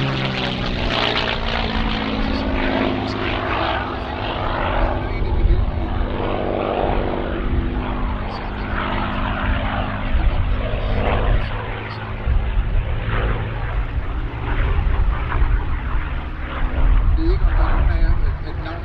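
P-51 Mustang and Spitfire warbirds with V12 Merlin engines fly overhead. A loud, rich propeller-engine drone swells and throbs steadily for the whole stretch, with overlapping engine tones and faint voices underneath.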